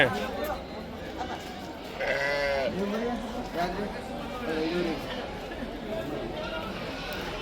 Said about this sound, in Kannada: ಇಲ್ಲಿ ನೋಡ್ರಿ ಎಲ್ಲ ದೊಡ್ಡ ಮೇಕೆ ಓತ ಸಣ್ಣ ಮರಿ ಎಲ್ಲ